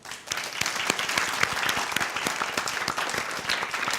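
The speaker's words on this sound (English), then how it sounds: "let's give Soyeon a big round of applause." A crowd at a competition show gives a big round of applause, with close, crisp, overlapping claps that keep up a busy, even rhythm throughout.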